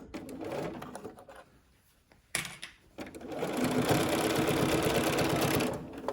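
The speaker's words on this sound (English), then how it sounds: "And then stitch all the way down to the end." A sewing machine stitches bias tape onto a fabric mask: a short burst of stitching, a pause with light handling, then a loud, steady run of close-up machine whirring lasting several seconds, with no talking.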